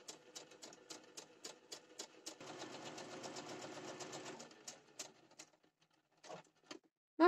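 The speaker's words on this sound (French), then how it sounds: "Je peux rebaisser le pied presseur. Hop. Et continuer ma couture." A sewing machine stitches fabric, with quick needle taps followed by a steady continuous run of stitching for a couple of seconds, then a few scattered taps; close and fairly quiet with no talking.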